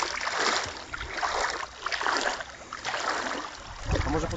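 A small boat moves across lake water on a Polish outing, giving a steady washing, splashing rush of water with wind, fairly close and continuous.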